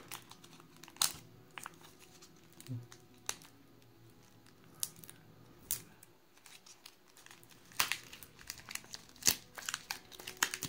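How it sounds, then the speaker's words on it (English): Tape being peeled off Magic: The Gathering booster packs from an eBay lot, heard as close, intermittent crinkling and tearing rips with scattered sharp crackles and quiet gaps between. "I gotta be able to get this tape off."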